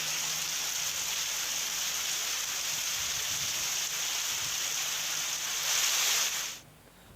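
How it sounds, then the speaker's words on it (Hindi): Light rain falling as a steady, even hiss of fine drizzle, close and continuous, ending abruptly near the close. "हल्की फुहारों के साथ बारिश हुई और बारिश से लोगों को भी राहत मिली है"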